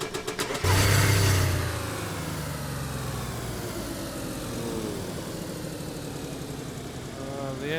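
A car engine in the video game DayZ, rising in a short rev near the start and then settling into a steady, moderately loud running drone that holds for several seconds with no talk.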